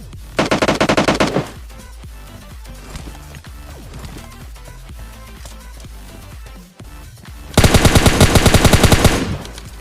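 A SCAR assault rifle fires in an online battle royale squad game, two loud rapid automatic bursts at the start and near the end, with quieter game ambience and footsteps in between.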